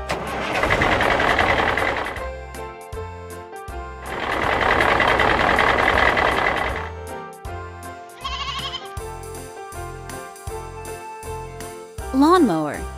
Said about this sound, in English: Lawnmower.